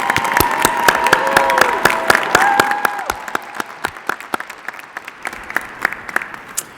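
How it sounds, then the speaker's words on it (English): Commencement audience at a university School of Social Work graduation applauding, a loud burst of many hands clapping that gradually thins out to scattered claps. "Let's everybody give a round of applause."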